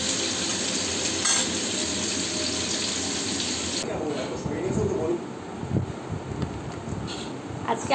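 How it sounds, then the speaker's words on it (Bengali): Fish frying in a pan on a home stove gives a steady, close sizzling hiss with occasional clatter and background activity throughout. "মায়ের জন্য মাছ ভাজা বসাতে এসেছি।"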